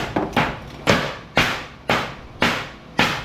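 The back of a hammer pecks at weld hang-ups while scrapping car dealership light fixtures: about seven sharp, close metallic strikes at a steady, fairly even pace, each ringing briefly before the next.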